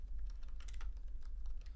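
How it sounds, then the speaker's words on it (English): Rapid, steady typing on a computer keyboard during a live stream, with close, crisp key clicks over a low background hum and no talking. "I'll just quit talking and type it."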